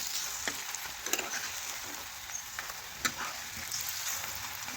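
Fritters fry in oil, a moderate crackling sizzle with scattered pops and a few light utensil knocks, steady throughout with no one speaking.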